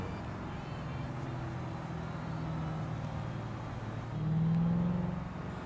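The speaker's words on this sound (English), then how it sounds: "Vroom vroom, V8" A V8 race car engine in a video game, droning at a moderate level with a steady low hum, then swelling into a louder rev near the end before settling back.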